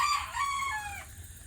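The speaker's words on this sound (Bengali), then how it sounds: "স্কিনে যে মুরগিগুলো দেখতে পাচ্ছেন এগুলো হলো এক মাস বয়সী অরিজিনাল টাইগার মুরগি" One-month-old tiger chickens give a short, high crowing call with a few clucks, close by and fairly clear against a quiet background.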